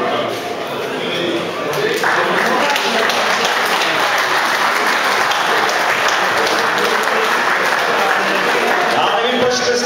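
An audience at a slivovice brandy competition in Habrovany claps loudly and continuously during a prize announcement, a dense, even wash of applause that holds steady throughout.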